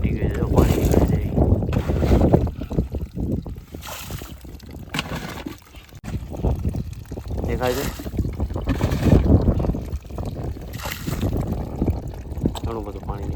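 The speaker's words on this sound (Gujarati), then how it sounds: "તૂટી ગયું છે જો પાણી નીકળે છે." Water gushes from a cracked reducer fitting on a PVC drip irrigation line, a close, steady rushing hiss with wind buffeting the microphone, and someone talking over it.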